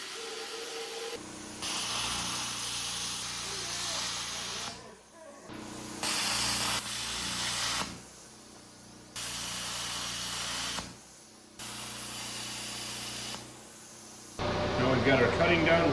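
Plasma cutter slicing into brake drums, harsh hissing cuts of a few seconds each separated by brief pauses, with air rushing before and after, close and fairly loud.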